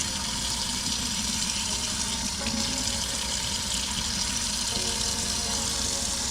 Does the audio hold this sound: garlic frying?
no